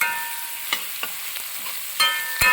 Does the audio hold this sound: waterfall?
no